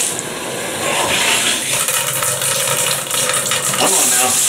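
Water sprays steadily from a Nintendo Shower Power hand-held shower head, a continuous close hiss of jetting water, loud and broadband for several seconds, with brief shifts in the splash and faint voice-like sounds mixed in.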